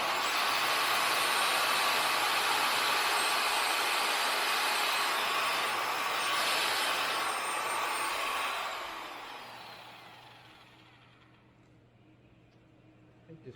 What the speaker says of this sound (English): So hopefully I can get these holes drilled before the thing just totally breaks down.